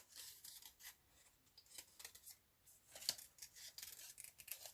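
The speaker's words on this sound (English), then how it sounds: "Okay, I'll just cut that piece out there." Scissors snipping paper for a collage, faint and close, with irregular light crisp cuts and rustling over a quiet background, no talking.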